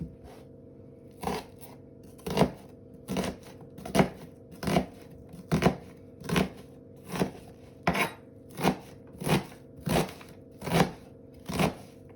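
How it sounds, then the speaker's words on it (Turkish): A knife chops onion steadily on a cutting board, about fifteen crisp, evenly spaced strokes in a regular rhythm, close and clear with no talking. "Soğanımı doğradım."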